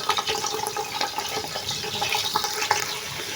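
Animal fat dropped into about half a kilo of hot ghee over a high flame, crackling and sizzling steadily with dense bright frying noise and scattered pops throughout, close and fairly loud.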